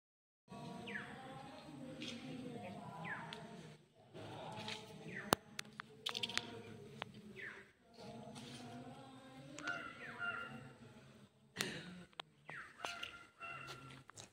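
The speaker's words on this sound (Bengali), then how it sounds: "পাখিদের আওয়াজ আর ঘন্টার আওয়াজ মন্দিরে" Birds call and caw around a lone Shiva temple deep in dense forest, with repeated chirps and crow-like caws over a soft outdoor background and a few sharp clinks, continuing steadily with short pauses.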